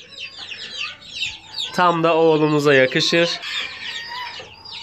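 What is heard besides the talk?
Serama chicken clucking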